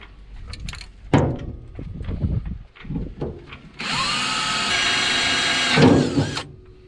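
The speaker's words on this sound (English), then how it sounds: "So let me drill that out." A power drill whines loudly and steadily for a few seconds as it drills out metal on a rusty wreck, preceded by knocking and handling noises, then winds down abruptly.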